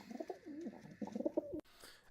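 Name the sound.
pigeon cooing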